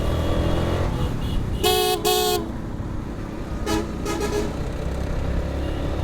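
Car horns honk in a short double blast and again in a quick cluster of toots amid a steady rumble of idling engines in a road traffic jam with buses, motorbikes and auto-rickshaws.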